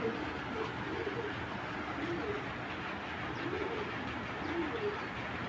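Club racing pigeons coo repeatedly in a steady low rhythm, close by, over a constant background hum with no talk.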